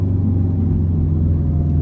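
A 2012 Subaru WRX hatchback rolling over train tracks, a loud continuous low road rumble and engine drone heard from inside the car, with no talking.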